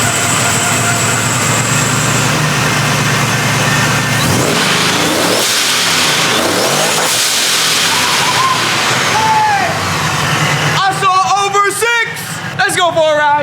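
A supercharged truck engine revs loudly on a drive, its broad roar rising and swelling with whine and rushing air, while a person talks over it near the end.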